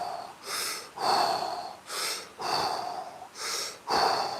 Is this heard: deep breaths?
yes